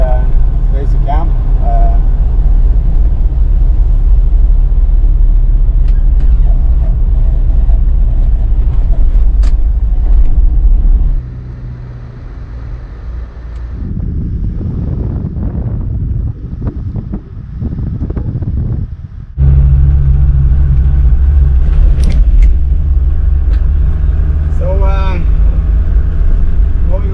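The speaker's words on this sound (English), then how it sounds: "Just turned off the tarmac onto gravel roads" A Land Rover turns off tarmac onto gravel roads in Norway's Jotunheimen. A steady low engine rumble mixes with wind buffeting the microphone, drops into a quieter, rougher stretch midway and then returns at full strength.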